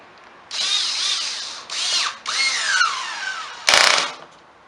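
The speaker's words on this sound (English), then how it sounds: "And we'll put the screw back in." A power drill drives a screw back into the plastic throttle handle of a STIHL BR430 backpack blower, with several short whirring bursts of varying pitch close by and a final louder burst.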